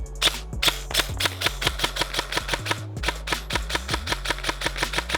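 A G&G MCP 556 airsoft AEG rifle fires close by: a few separate sharp snaps, then a steady, rapid string of crisp mechanical shots at an even rhythm.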